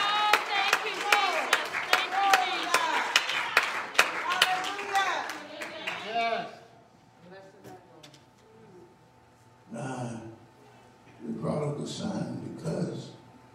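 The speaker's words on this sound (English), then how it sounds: "Clap your hands to the steam a little bit." A church congregation claps rhythmically in time under a loud preaching and singing voice for several seconds. The clapping then fades, leaving quieter talk and scattered sounds.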